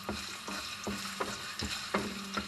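Ginger frying in hot oil, a close, steady sizzle with repeated scraping stirs in a pan, no voices.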